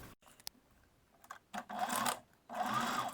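A sewing machine runs a second stitch line along a lace bust piece, in two short whirring bursts separated by quiet pauses and faint handling clicks.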